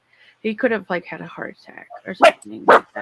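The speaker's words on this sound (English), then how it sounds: "Sorry for my dogs." Someone talks steadily while a couple of sharp dog barks break in near the end, close by and loud.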